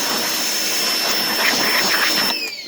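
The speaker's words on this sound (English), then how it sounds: "I got a new pressure washer because the old one broke down on me." A 1,750 PSI electric pressure washer spraying close to a car's aluminum wheel gives a loud, steady hiss with a high whine that cuts off sharply near the end.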